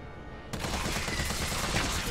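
Gunshots in Resident Evil 3 begin abruptly after a brief quiet moment, then continue as a dense run of rapid shots, loud and close, with no talking.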